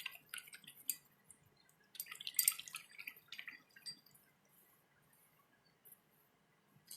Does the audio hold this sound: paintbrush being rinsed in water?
yes